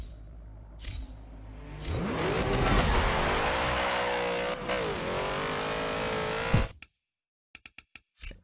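A Porsche 906 race car launches at very high RPM, its engine screaming loud and close with rising and dipping pitch for several seconds before cutting off abruptly, followed by a few sharp clicks.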